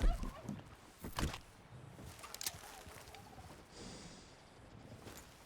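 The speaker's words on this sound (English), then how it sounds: "I hear two turkeys." Turkeys gobble in a western role-playing video game: a few short, rough bursts of calling, moderately close, stand out over a soft outdoor ambience with no talk.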